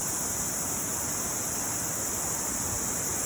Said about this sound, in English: I am down by the Waikato River,